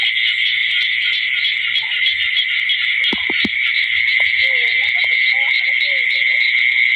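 Frogs call at night in a rice field after long rain, a few short, sharp croaks in the middle and a wavering call later, over a loud, steady drone of insects.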